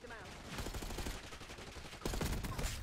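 Dense automatic gunfire from a video game firefight rattles on continuously and loudly, with voices speaking over the shooting.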